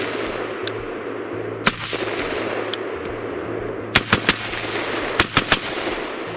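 A Springfield SAINT rifle with a mid-length gas system fires at an outdoor range. Sharp single shots crack at first, then quick bursts of two or three follow over steady wind and background noise.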